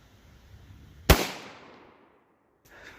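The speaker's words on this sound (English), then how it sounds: "They're shooting at a distance of about 4 to 5 yards." A single sharp 9mm pistol shot of a G2 Research Telos round fired into ballistic gel at about 4 to 5 yards, a loud sudden crack with a short decaying tail, then quiet.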